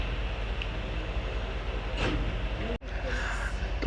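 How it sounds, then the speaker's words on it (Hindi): A long-rake passenger train on Pakistan's ML-2 line rolls into Domel station with a steady low rumble and wheel noise. The sound cuts out briefly near the end, then the rumble resumes. "दोमेल पहुंच गई है ट्रेन हमारी"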